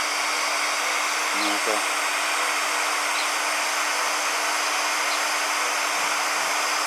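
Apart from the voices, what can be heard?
Stanley Fatmax 2000 heat gun blowing hot air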